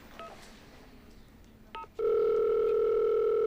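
A telephone call being placed: a few short dialing beeps, then a loud, steady line tone that holds unbroken to the end.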